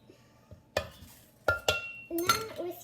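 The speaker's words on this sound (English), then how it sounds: "with your whisk that I told you to get earlier, you're just gonna whisk it all together until no clumps" A whisk stirs brown sugar in a bowl, giving a few sharp metallic clinks and scrapes against the side, spaced irregularly and fairly close, with no talk.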